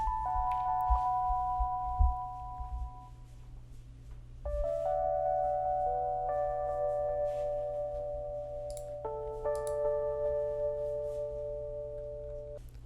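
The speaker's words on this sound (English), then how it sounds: "It's an E-piano and Rhodes." Rhodes-style electric piano plays a soulful top melody over sustained chords in a beat, soft mellow tones in a few phrase changes over a steady low throbbing bed, with no talk.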